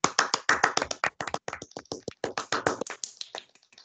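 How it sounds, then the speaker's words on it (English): A group of students in a classroom claps for a classmate, producing brisk, uneven claps at close range that rise and fade over a few seconds with no talking. "Let's clap now."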